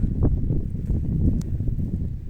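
Steady wind buffets the microphone in a low, continuous rumble that never lets up, in an open field.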